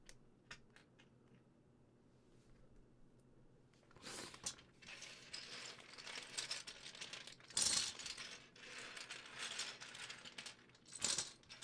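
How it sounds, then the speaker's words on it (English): Lego pieces clattering and rattling as they are gathered and put away, with a quiet start, then bursts of plastic clicks and scraping from about four seconds on and sharper jangling peaks near the middle and end. "Putting all the Legos away, you know it."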